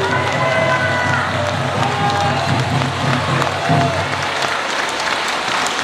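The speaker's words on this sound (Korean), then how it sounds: "정규재 주필님께 다시 한번 큰 박수 부탁드리겠습니다" A large audience applauds for editor-in-chief Jeong Kyu-jae, sustained loud clapping with a crowd murmur beneath, a voice speaking over it in the first part before the clapping carries on alone.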